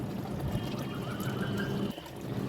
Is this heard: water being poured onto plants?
yes